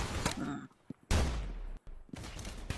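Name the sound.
sniper rifle gunshots in Roblox Arsenal video game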